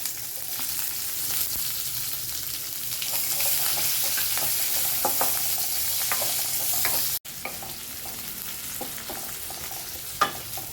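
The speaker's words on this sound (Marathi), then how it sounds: "कांदा छान परतत आला" Chopped onions frying in oil with mustard seeds, cumin and curry leaves for a spiced okra fry, giving a continuous crackling sizzle with occasional spatula clinks and a brief break partway through; no voices.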